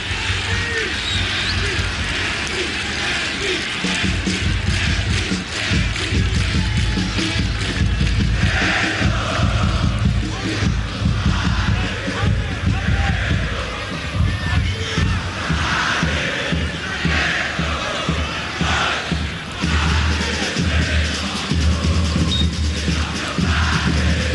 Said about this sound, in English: This crowd has filled out significantly since kick-off